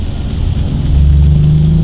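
BMW F30 340 sports sedan with a manual gearbox, engine droning low and steady while driving, the hum swelling slightly as it pulls, heard from inside the car with no talk.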